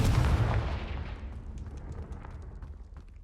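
A Confringo fire spell explodes in Hogwarts Legacy, a loud, deep boom at the start that rolls away into a long, crackling, rumbling decay, with no voices heard.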